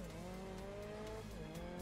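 An Audi race car in the Grid Legends racing game roars steadily with its engine note rising, tires squealing and skidding on the track throughout, loud and continuous with no talk.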